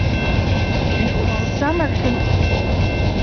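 Railroad cars roll steadily along the rails with a continuous loud rumble and hiss. A short squeal cuts in midway, and a voice speaks briefly over the noise.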